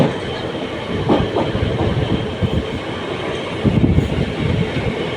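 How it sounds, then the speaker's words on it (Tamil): A Nagercoil-bound passenger train rolls past a level crossing, its wagons rumbling loudly with rhythmic clickety-clack wheel beats over the rails, heard close and steady for several seconds without speech. "இந்த வண்டி நாகர்கோவில் எக்ஸ்பிரஸ்ஸு இது பேசஞ்சர் தாங்க"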